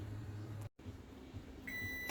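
Kitchen timer for a batch of nut butter goes off with a steady high electronic tone near the end, following a brief dropout and faint background hum.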